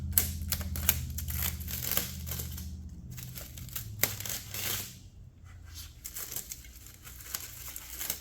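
A knife cuts open tape on the crate of a new 2023 Kove 450 Rally Low motorcycle, giving close, irregular bursts of ripping and crinkling with short pauses between strokes.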